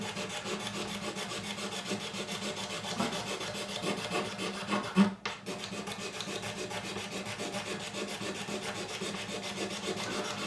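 Steady, continuous scraping as crud is worked off a Yamaha FG403 acoustic guitar, a close rasping rub against wood that holds an even rhythm with one brief knock midway, and no talking over it.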